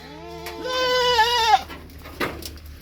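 A Sojat breed goat on a small farm lets out one long, close, wavering bleat, followed by a brief quieter rustle.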